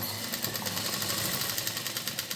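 A sewing machine running a straight topstitch along a strip on a petticoat, a steady fast rhythmic whirr with regular needle ticks, close and continuous with no talk.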